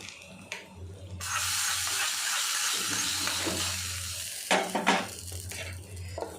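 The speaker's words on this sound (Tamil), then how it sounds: "இப்போ நம்ம தாளிச்சு ஊற்றிடலாம் சட்னி தாளிச்சு ஊற்றோம் கடுகு வெங்காயம் கருவேப்பிலை" A hot tempering of mustard seeds, onion and curry leaves poured into chutney, a loud steady sizzle and spatter lasting several seconds, followed by a few clinks of a metal pan and spoon.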